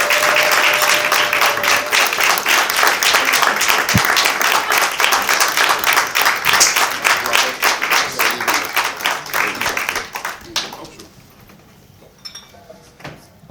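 A conference audience at a confidence summit claps loudly and steadily to welcome the master of ceremonies, dense applause that thins into scattered claps and fades to quiet near the end.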